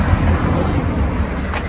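Steady roadway traffic along a highway, a constant low rumble of passing cars with a faint swell near the end, continuous and fairly loud with no clear talk.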